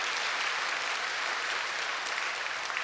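A congregation at a Sunday church service claps in a steady, even round of applause that holds at moderate volume throughout, with no talking heard.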